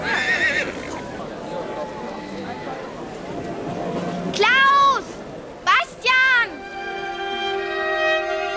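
A horse whinnies loudly twice in quick succession, high and wavering, over background outdoor noise and faint talk.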